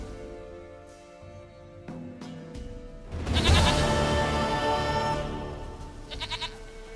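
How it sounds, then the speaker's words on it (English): A goat in The Witcher 3 gives a loud, wavering bleat midway through, standing out over quiet game ambience, followed by a few shorter, fainter bleats near the end. "sweetest goat."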